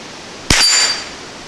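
A bullet strikes a steel bullseye target at an outdoor range with a single sharp metallic clang that rings out for about half a second, loud and close over a quiet background.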